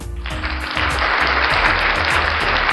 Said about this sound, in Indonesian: Kalau si applause ini pure tepuk tangan tapi lebih bergemuruh.